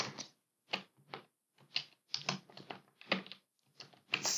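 Keys clatter in short bursts of quick, close clicks on a computer keyboard while entering data into an Excel spreadsheet, with brief pauses between bursts and no voices.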